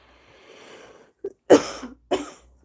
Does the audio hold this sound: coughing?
yes